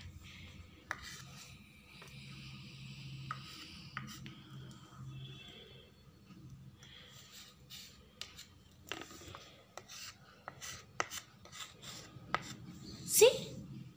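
Homemade colour chalk scrapes and rubs across a surface in short strokes, quiet scratchy marks with small taps and pauses between, ending in a louder stroke.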